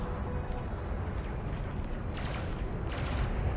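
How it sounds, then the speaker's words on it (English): Frag cannons firing in the space combat game Elite: Dangerous, a dense continuous barrage of rapid booming shots over a heavy low rumble, with sharp bursts standing out as the volley goes on. "Those frag cannons are kind of mean."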